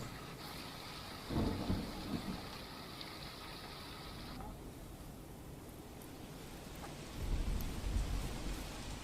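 Steady unseasonal rain hisses throughout over farm fields in Maliya, Junagadh, with low rumbling bursts that sound like thunder and faint voices in the background.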